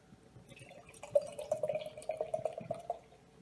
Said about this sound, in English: I hate doing crowler pours, so I might make a little bit of a mess.